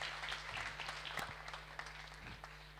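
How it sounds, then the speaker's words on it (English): Applause from a startup demo day audience, a steady wash of many hands clapping at moderate volume with no voices over it. "a big round of applause"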